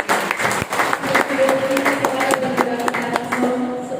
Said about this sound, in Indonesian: Berikan tepuk tangan yang paling meriah.